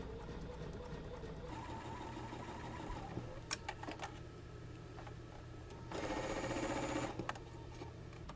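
A sewing machine stitches quilt block seams, running steadily with a faint mechanical whir, pausing briefly as the presser foot lifts over bulky joined seams, then speeding up again louder near the end.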